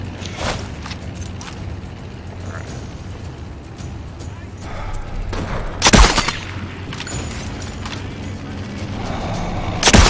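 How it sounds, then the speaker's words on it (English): Enemy machine gun fire in the Sniper Elite VR video game, a dense spray of shots with a sharp close burst near the middle and another at the end, over continuous low battlefield rumble. "These guys can hit me with a machine gun."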